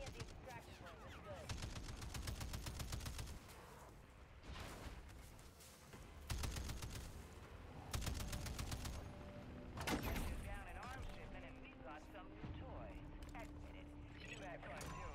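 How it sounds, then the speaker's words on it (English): Controlled bursts of automatic gunfire in MW3 Zombies, fired in short rapid volleys separated by brief pauses to keep the weapon from overheating. The shots are loud and sharp, with a voice talking between some of the bursts. "Trying to burst fire it so I don't fucking overheat the gun."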